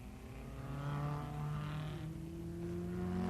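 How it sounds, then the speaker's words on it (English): Lancia Ferrari V8 racing cars at the 1957 German Grand Prix, driven flat out: a steady, distant engine drone with sustained tonal whine and slight pitch shifts, faint throughout. "Verstappen, Hawthorn and Collins flat out in their powerful Lancia Ferrari V8s"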